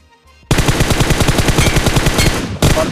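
Rapid automatic gunfire in PUBG Mobile, a steady close burst of evenly spaced loud shots lasting over two seconds, a brief pause, then another shot.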